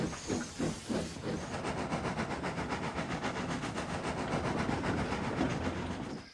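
A steam engine puffs steadily with rapid rhythmic chuffs over a broad continuous hiss, and a clickety-clack rhythm runs beneath throughout, with a few louder bursts near the start.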